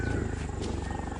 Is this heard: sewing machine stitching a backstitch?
no